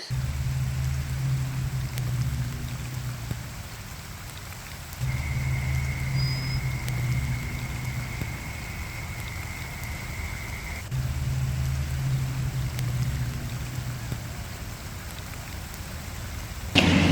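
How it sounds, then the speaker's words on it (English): Steady rain patters and hisses outdoors, with a low rumbling hum that comes and goes in the background. "It has been raining and raining and raining."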